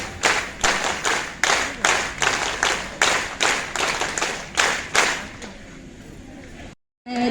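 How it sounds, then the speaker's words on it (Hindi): An audience of women at a community hall honour ceremony performs the Mitanin clap, loud sharp unison claps in a quick repeating rhythmic pattern for several seconds, then fading and cutting to silence. "आप लोग मितानिन ताली से शुरुआत कीजिएगा। मितानिन ताली।"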